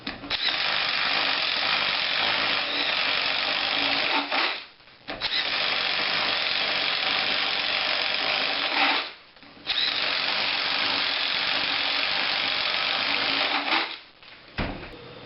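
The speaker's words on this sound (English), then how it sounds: "This is the 1 inch paddle bit." A DeWALT 20V MAX 1/4-inch impact driver bores with a 1 inch paddle bit, making a loud, close, steady grinding whirr in three long runs of about four seconds each, split by brief pauses.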